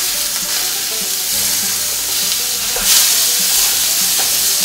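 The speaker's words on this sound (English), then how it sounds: "So the hamburgers are starting to cook," Hamburger meat frying loudly in oil for cheeseburger wontons, a dense continuous sizzle close up with occasional knocks and scrapes as a spatula cuts it apart, no voices.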